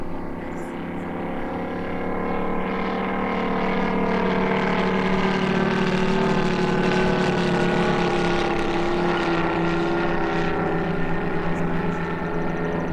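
A TopRc T-28 Trojan full-composite RC model airplane, 111-inch span, flying at about three-quarter throttle, its engine a loud, steady droning whine with a strong, even tone and only slight shifts in pitch.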